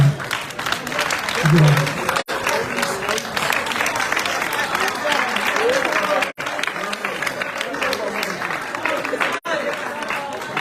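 Council members applaud staff at a Freetown City Council meeting, loud close clapping that runs continuously with brief cheers and voices mixed in.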